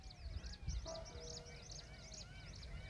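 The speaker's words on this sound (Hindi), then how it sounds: "पक्षियों की ध्वनि आपको सुनाई दे रही होगी" Birds call outdoors in a natural setting, with repeated short chirping phrases running steadily through the clip at moderate distance alongside low background rumble.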